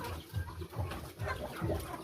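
Pet chickens on a farm cluck and call in a steady, moderately loud stream of short bursts, with a hen's murmurs rising and falling over faint background noise.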